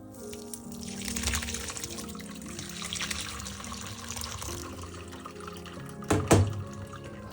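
Cheese curds being strained through a cotton napkin in a kitchen, with water running and trickling steadily and a brief louder splash near the end.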